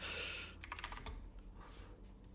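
Fast typing on a computer keyboard during live gold day trading, a quick burst of close clicks followed by a few lighter taps, no speech.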